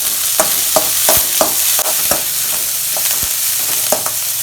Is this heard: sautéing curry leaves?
yes